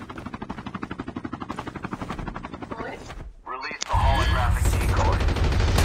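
Rapid rhythmic gunfire rattles for several seconds in Call of Duty Mobile, then a loud rotor roar like a helicopter takes over, with excited voices talking over the action.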